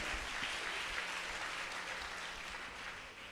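Congregation clapping hands together during a church worship service, a dense, steady patter of many hands that fades slightly toward the end, with no talking over it.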